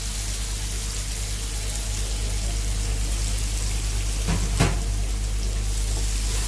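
Grated carrots frying in a pan for carrot halwa, a steady soft sizzle and crackle close by, with a brief louder burst as something is stirred or added near the end; no talking.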